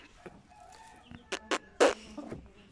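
Hen clucking near kittens, a few short, sharp clucks rising out of quiet background sounds, close by, with the loudest cluck near the end.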